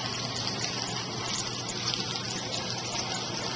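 Water trickling and splashing steadily into a water fountain basin, a continuous close bubbling wash with no talk over it.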